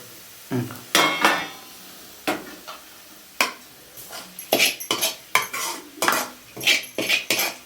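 A plate being washed by hand in a home kitchen, with a string of sharp clinks and clatters of crockery and cutlery, close by and irregular, with no one talking.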